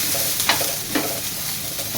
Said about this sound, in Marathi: टमाटरला चांगलं भाजू द्या बघा.